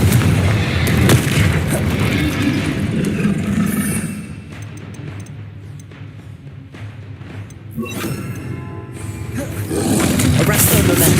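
A Confringo blasting spell explodes in Hogwarts Legacy with a loud, booming blast that fades into a quieter rumbling tail, and a second burst of heavy action follows near the end.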